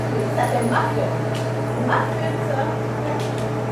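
A small dog gives a few faint yips and whimpers at irregular moments over a steady low hum in the room.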